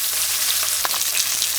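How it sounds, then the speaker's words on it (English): Red snapper fish frying in hot oil, a steady close sizzle with a brief crackling pop partway through, no talk. "A tip to frying fish, you don't want to over fry it"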